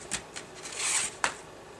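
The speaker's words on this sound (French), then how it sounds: "Donc je vais pouvoir découper les contours." Shiny embossed paper for a black-and-white wedding invitation is cut along its outline, giving a few short, crisp rasping snips that are quiet and close, with no talk.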